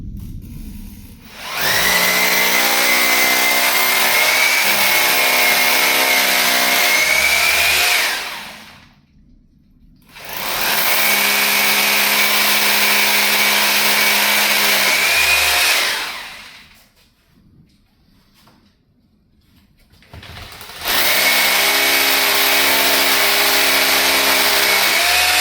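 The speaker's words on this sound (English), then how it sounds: "Drilling into solid concrete for 8 hours a day. This cuts through like butter." A power drill bores into solid concrete in three long, loud sustained whining runs, each rising and settling, separated by short pauses of near silence.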